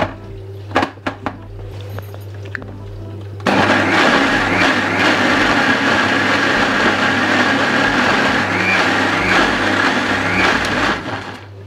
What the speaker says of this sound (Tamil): எனக்கு கொஞ்சம் தண்ணி சேர்த்து அடித்தா நல்லா சூப்பராக இருக்கும்